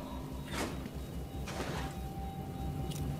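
A door opens in the Batman: Arkham City video game, giving two broad whooshing slides about a second apart and a fainter third near the end, over a steady low ambient hum.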